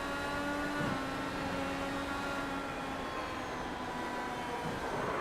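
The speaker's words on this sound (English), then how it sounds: "just listen to the engine" IndyCar racing car engine on the oval at New Hampshire, a steady droning whine with tonal harmonics, fairly distant and even in level with no voices.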